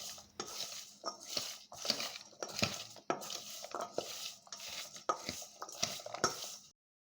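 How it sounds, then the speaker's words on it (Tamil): Ground spice powder being mixed in a bowl for instant mango pickle, heard as repeated close scraping and clinking strokes of a spoon against the bowl in an uneven rhythm, ending abruptly. "நெக்ஸ்ட்டு பவுலில் நம்ம பொடிச்சு எடுத்த தூளை சேர்த்து நல்லா மிக்ஸ் பண்ணிக்கலாம்."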